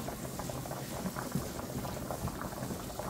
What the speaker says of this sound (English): And I'm going to let these just sit here and saute for a little bit.